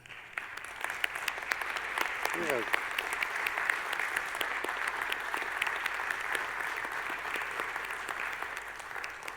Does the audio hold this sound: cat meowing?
no